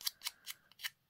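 Scissors snip through craft paper four times in a steady rhythm, each cut a short crisp crunch close by, with brief quiet between strokes and no talking.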